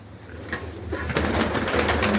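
Pigeons in a home dovecote give soft, low cooing, with a few brief higher calls and rustling layered over a steady murmur, close by and fairly quiet.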